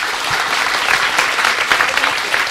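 Audience applause at the close of a Japanese lecture on deep learning for image recognition, a steady dense clapping that holds loud and even throughout without a break.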